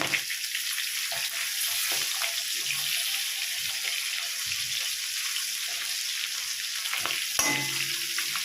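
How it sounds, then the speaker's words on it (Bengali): Bhetki fish bones sizzle steadily in hot oil as they are turned to fry the other side, a dense continuous crackle and hiss close by with a few brief clatters and no voices. "একইভাবে উল্টো সাইডটাও ভেজে নেব।"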